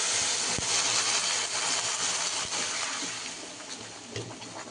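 Water poured into a hot pan of spicy chowmein hisses and steams in a broad, loud rush that slowly settles toward the end.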